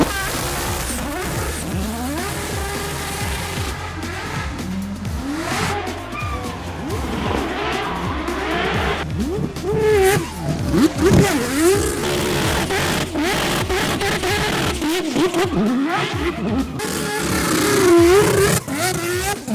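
A McLaren drift car charging up a hill run, its engine revving hard through repeated rising and falling gear sweeps with bursts of tire noise, loud and continuous throughout, with faint voices underneath.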